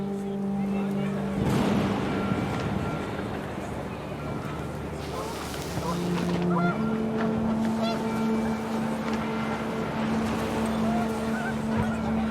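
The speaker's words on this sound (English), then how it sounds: "The wind picked up, and panicked geese appeared and quickly went." Panicked geese in the video game What Remains of Edith Finch honk amid gusting wind and a droning low hum, the calls scattered and partly masked, with a voice talking over much of it.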